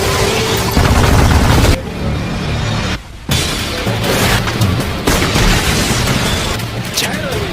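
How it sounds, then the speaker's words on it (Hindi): Loud booming gunfire from a sniper rifle in a dubbed anime fight scene, heavy blasts and crashing impacts with brief silent gaps between bursts, dense and close, with action sound effects layered over them. "एक स्नाइपर राइफल है।"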